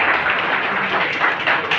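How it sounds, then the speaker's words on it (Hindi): A crowd of party workers at a political gathering in a Haryana office claps loudly and continuously, a dense, close wall of applause for the whole stretch. "एक बार जोरदार ताली के साथ।"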